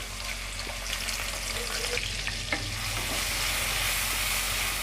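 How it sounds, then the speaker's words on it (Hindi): Constant crackling sizzle of chopped onion and whole cumin frying in ghee, with light scraping and stirring noises over it throughout. "अब प्याज को गुलाबी होने तक हम पका लेंगे।"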